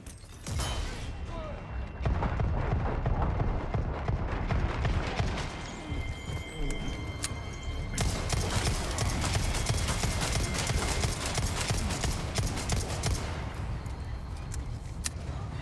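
Rapid clattering hooves of a cow running in Resident Evil 4 Remake, a loud dense patter with creaks and mechanical noises, under game chatter and voices.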